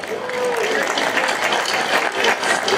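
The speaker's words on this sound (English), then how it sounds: "Round of applause to our sound engineer," Concert audience applauds the sound engineer, a dense wash of clapping filling the whole moment at steady loudness, with a sustained voice or tone faintly running through it.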